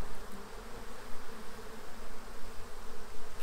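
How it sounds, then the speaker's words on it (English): Dense buzzing of many honeybees inside a hive, a continuous close hum that swells and fades in gentle waves. "the bottom looks filled with bees"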